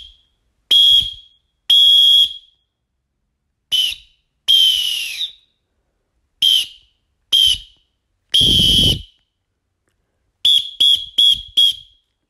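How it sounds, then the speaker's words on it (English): ACME Cyclone 888 pea-less whistle sounding repeatedly outdoors: a series of sharp, loud, shrill blasts, mostly short, some in quick bursts, separated by silence. "The 888 has a great short blast"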